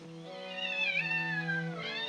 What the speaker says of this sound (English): Cats Chorus. There it is.